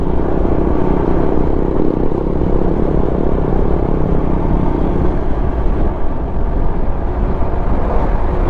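Dense, steady road rumble and engine drone from riding behind a motorcycle on the road toward Baguio, with wind noise heavy throughout and no distinct separate engine standing out.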